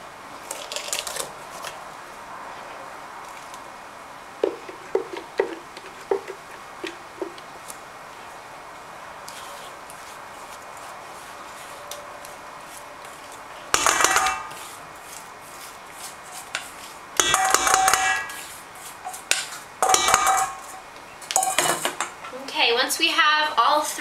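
Cake batter being mixed in a bowl for a flourless, sugar-free chocolate cake, with utensil clinks and scraping against the bowl, quiet taps at first, then louder bursts of stirring and rattling later on.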